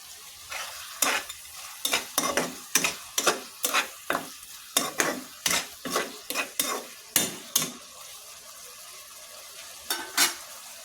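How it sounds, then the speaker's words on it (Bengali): Meat frying in a pan is stirred with a utensil, about twenty rhythmic scraping strokes over a steady sizzle, close and alone with no voices. "মাংসটা আমি ভালোভাবে নাড়াচাড়া করে নিচ্ছি।"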